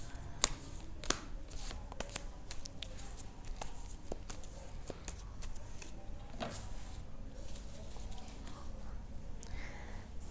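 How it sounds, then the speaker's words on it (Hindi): A deck of tarot cards is shuffled by hand, giving a steady close papery riffling and patter with sharper snaps now and then, continuing without talk. "तो एरीज के लिए मैं कार्ड शफल कर रही हूँ।"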